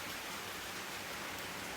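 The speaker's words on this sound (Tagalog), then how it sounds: "Hala, ulan na din siya, kusog-kusog na." Heavy rain pouring down in a steady, dense hiss, even and constant throughout, with no voices over it.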